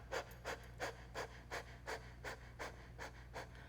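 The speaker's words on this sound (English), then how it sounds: "stick out your tongue, and you'll pant like a dog" Rapid rhythmic panting with the tongue out like a dog, about ten even breath bursts in under four seconds, close and moderately loud with no talking, during a Kundalini yoga breathing sequence with hands on the belly.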